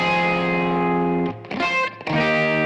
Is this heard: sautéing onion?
no